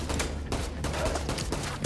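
Sustained burst of gunfire in The Division 2, dense and loud throughout with repeated sharp reports and no clear pauses.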